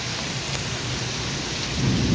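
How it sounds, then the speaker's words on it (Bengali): Heavy rain pours in a windy Kalbaishakhi thunderstorm in Sylhet, making a dense, steady roar with no voices. "বৃষ্টির ফুটা পড়তেছে"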